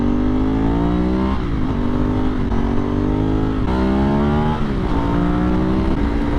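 A Ducati 996 motorcycle rides along an open road, its engine loud and close with a steady roar that climbs in pitch, dips briefly at each gear change, then rises again.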